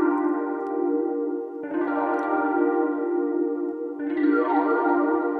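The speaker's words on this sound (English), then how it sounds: "Phaser's cool. Let's do a phaser." Sustained electric piano chords with a swirling, sweeping phaser modulation, played in three held sections with no talking.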